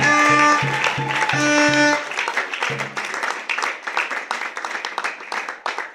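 Church congregation applauding at a prayer service, starting under loud sung or played tones and then carrying on alone as dense, steady clapping with some shouts, fairly close and full.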